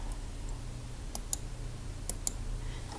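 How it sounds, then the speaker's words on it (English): A computer mouse gives a few quiet, crisp clicks in two close pairs, close by in a quiet room, with no talking. "I'm going to click on that little dot,"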